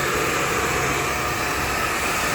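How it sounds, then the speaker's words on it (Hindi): A blue light hair dryer blows over hair during a hair botox treatment, giving a loud, steady broadband whoosh of airflow with a constant motor hum that never changes across the stretch. "अब हम इसको ब्लू लाइट हेयर ड्रायर के साथ ड्राई करेंगे इस तरह से।"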